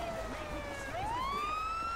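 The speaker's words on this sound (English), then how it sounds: "Siren on." A police car siren from the GTA 5 video game wails close and loud, one long tone gliding down and then climbing again over steady background game noise.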